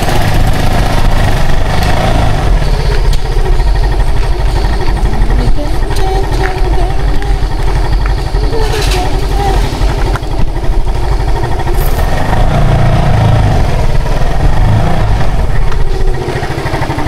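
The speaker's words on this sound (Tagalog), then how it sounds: "Sakay na natin yung motor." A motorcycle engine runs steadily and loudly throughout a ride near the coast, with a rough continuous drone and slight shifts in pitch.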